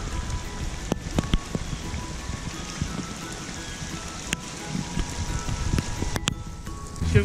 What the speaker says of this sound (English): Oh, it's pouring down rain!